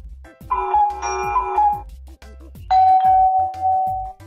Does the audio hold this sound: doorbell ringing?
yes